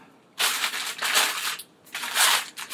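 A Benelli M2 Field American shotgun barrel is pulled from its protective cardboard and plastic sleeve, giving loud, close crinkling and crumpling bursts in two main stretches separated by a short pause.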